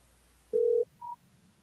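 An outgoing phone call rings while waiting for an answer: a single steady ringback tone, then a shorter higher beep, faint against a quiet line.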